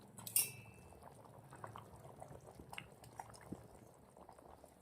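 Macaroni boils in a pot at a low simmer, bubbling quietly with soft popping, plus a brief clink of a utensil near the start.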